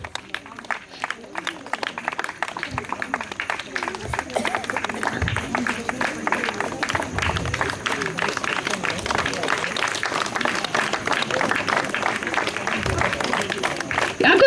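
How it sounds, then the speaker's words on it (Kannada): Audience applause at a Kannada Rajyotsava award function, a steady patter of many hands clapping throughout, moderately loud with crowd murmur, following the announcement of a second prize. "ಯಾಕೋ ಚಪ್ಪಾಳೆಗಳು ಸ್ವಲ್ಪ ಕಮ್ಮಿ ಆಯ್ತು ಅನ್ಸ್ಲಿಲ್ವಾ?"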